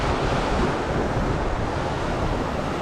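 Sea waves break and wash onto the shore of the Cardiff foreshore on the Bristol Channel in South Wales. The surf makes a steady, close, broadband roar, with wind buffeting the microphone throughout.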